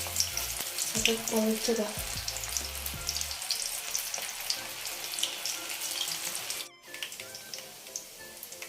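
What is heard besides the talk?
spinach onion pakodi frying in hot oil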